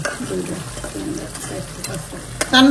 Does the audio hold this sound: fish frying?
yes